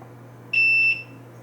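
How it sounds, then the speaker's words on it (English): A multimeter in continuity mode gives one short, sharp, high-pitched beep lasting about half a second, close and clear over a faint background hum. "Let's just put our multimeter on continuity mode."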